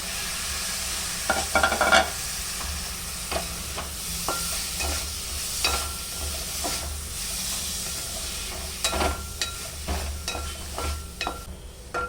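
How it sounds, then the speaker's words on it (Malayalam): Carrots and potatoes tossed into sautéed onions for a chicken stew: continuous close sizzling and hissing with repeated scrapes and clatter of a spoon stirring in the pan, no voices. "ഈ സമയത്ത് നമുക്ക് കട്ട് ചെയ്ത് വെച്ചിരിക്കുന്ന വെജിറ്റബിൾ ഉണ്ടല്ലോ, ക്യാരറ്റും പൊട്ടറ്റോ, അത് ഇതിലേക്ക് ഇട്ട് കൊടുക്കാം."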